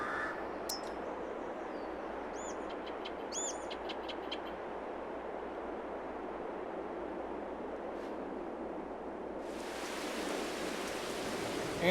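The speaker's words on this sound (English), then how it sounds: "And it's raining." Steady broadband hiss of rain falling in the farming game Farming Simulator 22, continuous and even throughout, with a few faint bird chirps early on and a brighter rush of rain near the end.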